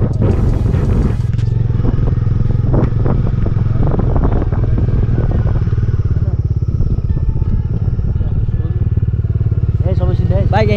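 A motorcycle ridden near a village school in Karkigaun, Jajarkot, gives a steady close engine drone with wind buffeting, while voices talk over it throughout.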